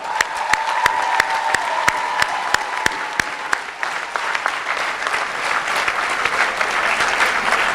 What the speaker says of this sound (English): I think all of you graduates today deserve a final round of applause.